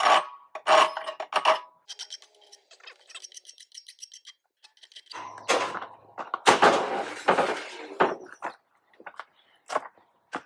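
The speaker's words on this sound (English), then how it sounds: "Let's file this off so it's not a sharp edge." A steel leaf meat hook has its sharp edge filed off by hand, giving several bursts of raspy scraping strokes, close and fairly loud, separated by short pauses and some lighter tapping and handling noises.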